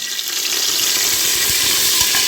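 Cumin, fenugreek and curry leaves sizzle steadily in hot oil while tempering for a large batch of Tamil fish curry, a close, continuous crackling hiss with no talk.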